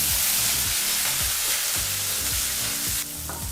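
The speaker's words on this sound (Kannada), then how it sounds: "ಈಗ ಇದನ್ನೆಲ್ಲ 1 ನಿಮಿಷಗಳ ಕಾಲ ಎಣ್ಣೆಯಲ್ಲಿ ಫ್ರೈ ಮಾಡಬೇಕಾಗುತ್ತೆ" Green chillies, garlic and curry leaves frying in oil for a tempering, giving a loud, continuous sizzle with rhythmic stirring scrapes and no voices.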